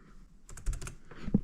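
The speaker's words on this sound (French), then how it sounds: "c'est un clavier rétroéclairé RGB qui est plutôt joli, qui a une bonne frappe" Typing on an RGB backlit laptop keyboard: a quick burst of soft, close keystrokes in a rapid run, then a few scattered taps, fairly quiet with no voices.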